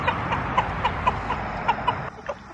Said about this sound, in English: that's a little rooster, and he's going to a new home.